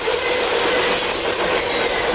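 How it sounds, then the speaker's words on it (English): Sand train rolling past on rails in Ohio, a loud, steady rumble and rattle of freight cars with faint wheel squeal, continuous and close throughout. "And this is a sand train."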